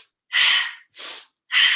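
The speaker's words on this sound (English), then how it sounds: "So it is like a pranayama breathing technique." Fast, forceful breaths through the nose in a yoga pranayama practice, three sharp hissing bursts close up with brief silences between, no talk.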